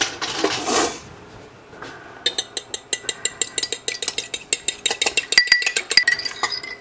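Eggs, milk and parsley beaten in a bowl for a meatloaf mix: a brief shuffle, then a steady run of quick, sharp clinks as a utensil strikes the bowl, close and clear with no talking.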